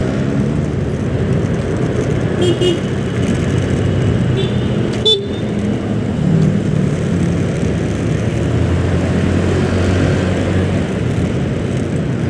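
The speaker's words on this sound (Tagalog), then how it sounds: "Traffic." Steady road traffic roars continuously at close range, a dense broadband wash with a brief horn-like tone and one sharp knock partway through, with no one talking.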